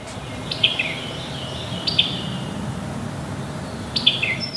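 Outdoors by a river, a bird repeatedly gives short, high chirping calls in three separate bursts, clear over a soft steady background hiss.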